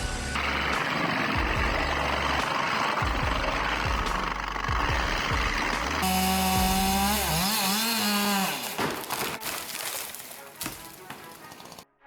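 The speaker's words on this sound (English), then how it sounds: "An 8-ton wide old pine meets its match with the Husqvarna 3095 XP and a 36-inch bar." Husqvarna 3095 XP chainsaw with a 36-inch bar cutting through a large old pine, a loud sustained engine roar with shifting pitch as the chain bites, continuing steadily before tapering off near the end.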